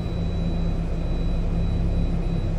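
A simulated turboprop engine on an EMB-110 in X-Plane 11 is pushed to maximum RPM, giving a steady, loud, droning roar with a constant tonal hum that holds unchanged throughout.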